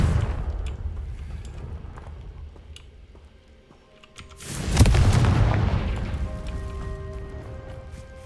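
A Confringo fire spell blast in Hogwarts Legacy goes off as one loud booming burst midway, falling into a rumbling decay over low game ambience.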